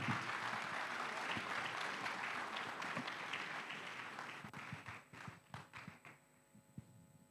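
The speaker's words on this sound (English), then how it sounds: "Another round of applause for all our winners." Faint crowd applause for prize winners, steady clapping that thins out toward the end with a few scattered claps and knocks, heard from a distance.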